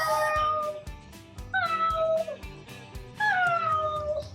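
A person imitates a cat, producing three drawn-out, wavering meows with brief pauses between them, loud and close, over a faint rhythmic thumping in the background.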